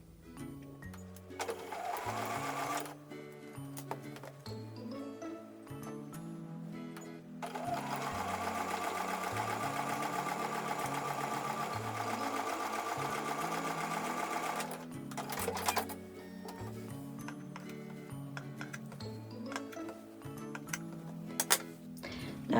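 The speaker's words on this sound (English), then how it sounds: "I'm going to take those over to the sewing machine and sew with a 1/4 inch seam." A sewing machine stitching quilt block pieces with a quarter-inch seam in steady runs, its rapid mechanical whir starting and stopping several times, close by with no talking.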